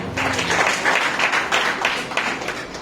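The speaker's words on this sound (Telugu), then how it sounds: "చప్పట్లు కొడదాం." A church congregation claps together during a Sunday service, a dense, steady wash of many hands lasting a few seconds with no talk over it.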